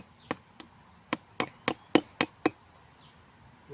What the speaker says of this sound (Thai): ตอนนี้เรากำลังตอกตะปูกัน พ่อกำลังตอกอยู่